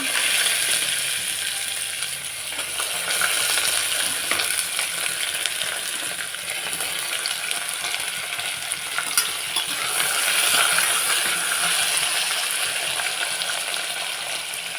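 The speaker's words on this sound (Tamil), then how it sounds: "கட் பண்ணி வச்ச வெங்காயத்தை போட்டுடலாம்" Chopped onions sizzle in hot oil with cashews in a pan for baby jackfruit biryani, a steady close frying hiss with occasional stirring scrapes and no talking.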